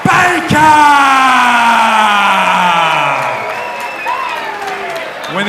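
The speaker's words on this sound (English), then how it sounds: "the hometown support for Chris Baker showing up loud for him" A loud arena crowd roars and yells in support of hometown MMA fighter Chris Baker from Canberra at a fight night, sustained cheering with whoops and some clapping, easing slightly toward the end.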